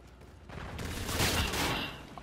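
Shotgun and other gunfire in the Call of Duty: Infinite Warfare video game, a dense, loud burst of shots running through the whole stretch with game noise and no talk over it.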